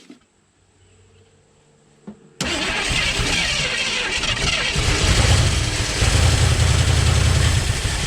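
An AMC Rebel car running on fuel fed from a jerry can gives a few quiet clicks, then the engine suddenly catches and roars into a loud, rough, steady run close by.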